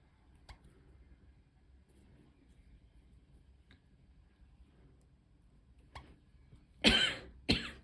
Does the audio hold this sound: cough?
yes